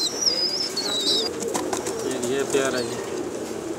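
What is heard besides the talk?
Teddy pigeon pair cooing in pigeon shop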